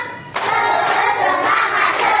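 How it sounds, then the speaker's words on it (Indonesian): Children in a classroom perform a rhythmic spirit clapping routine, loud close hand claps in a quick patterned sequence starting after a brief pause. "Tepuk semangat."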